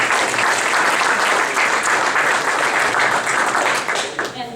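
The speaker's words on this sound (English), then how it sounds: "Let's give our presenters one more round of applause." A seated audience at a mock angel company showcase applauds the presenters: steady, dense clapping from many hands that holds for several seconds and thins slightly toward the end, with a voice faintly underneath.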